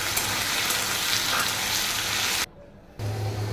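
Potatoes and green chillies frying in oil, a dense close sizzle that drops out abruptly for a moment before resuming just as loud.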